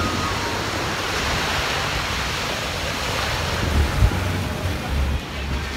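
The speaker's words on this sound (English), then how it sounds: "Very, very nice beach." Ocean waves roll onto Punta Cana beach in the Dominican Republic with a constant, loud wash of surf, wind buffeting the microphone and a few heavier low thumps near the end.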